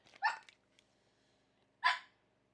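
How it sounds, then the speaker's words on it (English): A dog barks twice indoors, two short, sharp barks about a second and a half apart in an otherwise quiet room. "Hey, do not bark at me."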